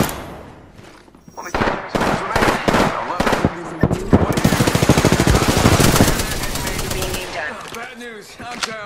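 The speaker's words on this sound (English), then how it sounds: "Opening fire" Sustained automatic gunfire in the Apex Legends video game, loud rapid bursts of shots with a few brief pauses, continuing for several seconds, with voices occasionally heard amid the shooting.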